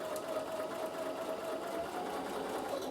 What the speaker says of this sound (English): stay stitch all the way down, and you can see it's doing a 3mm stitch line